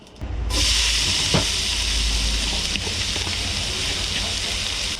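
Loud, steady sizzling hiss begins suddenly and carries on evenly as vegetables and onion hit hot sesame oil in a wok, with faint clinks underneath.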